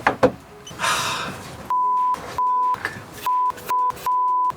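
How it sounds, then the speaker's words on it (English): A Razor E300 electric scooter fitted with Xiaomi M365 parts gives a series of five steady electronic beeps, clear and close, after some handling noise and a short rustle. "It doesn't help this is beeping at me"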